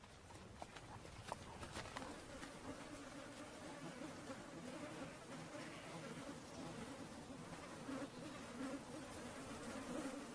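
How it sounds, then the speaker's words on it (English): Biting insects buzz in the Alaskan wilderness under endless daylight, a faint, continuous swarm hum with occasional louder passes close to the microphone, steady throughout. "More than 35 species of biting insects feast in the endless daylight"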